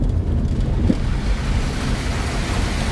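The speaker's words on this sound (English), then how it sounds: "I know it's just driving through a creek" A car drives through a shallow creek in the East Tennessee woods. A dense, steady wash of splashing and churning water rumbles close and loud the whole time with no voices.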